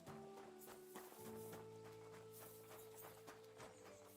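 Horse hooves clip-clop at a steady walking rhythm in a medieval video game, fairly clear over a sustained musical drone.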